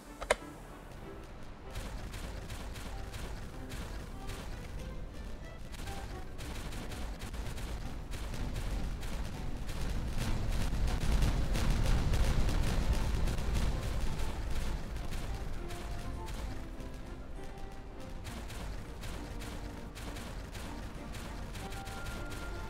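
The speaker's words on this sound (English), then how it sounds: "So let's explode things, shall we?" Rapid, dense bursts of explosions in the video game Timberborn, crackling continuously for over twenty seconds and swelling toward the middle, with a sharp initial bang.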